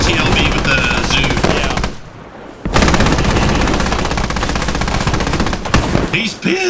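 MT-LB armored vehicle's ZU autocannon firing in a combat video game, loud rapid bursts of heavy automatic fire broken by a short pause, then resuming with a voice briefly heard near the end.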